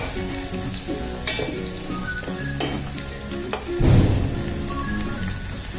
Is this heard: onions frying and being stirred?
yes